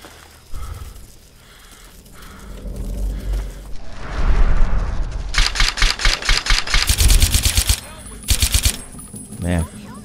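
Rapid automatic gunfire from a modded Fallout 3 game, sharp repeated bursts with a loud stuttering rhythm and a final few shots, heard over a low background rumble while someone speaks intermittently.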